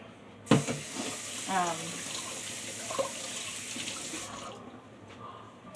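Water runs steadily from a kitchen sink tap, a broad continuous rush that starts with a clunk and stops near the end, with some brief handling noises in between.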